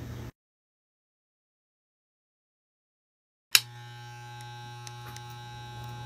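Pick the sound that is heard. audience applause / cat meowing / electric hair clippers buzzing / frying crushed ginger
electric hair clippers buzzing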